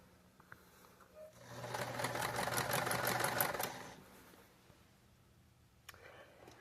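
Domestic sewing machine stitching binding onto a quilt edge, a steady rapid mechanical whirr building in for about two seconds and then stopping, moderately close, with quiet room noise before and after.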